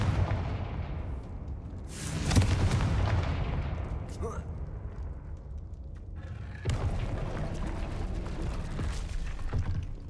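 Confringo spell blasts in Hogwarts Legacy, a fantasy video game: a heavy booming burst near 2.4 seconds with a long rumbling tail, then a second loud detonation around 6.7 seconds over a constant low roar.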